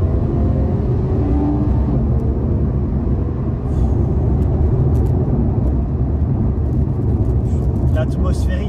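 A Porsche 911 with a naturally aspirated flat-six engine and PDK gearbox runs with a loud, continuous low rumble throughout, steady and close, with a few faint higher clicks toward the end.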